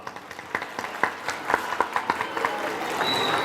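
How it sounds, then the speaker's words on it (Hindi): An audience at a school event applauds in welcome, scattered distinct claps that thicken into a fuller, steadier round of clapping by the end. "इसलिए तालियों के साथ स्वागत है एक बार"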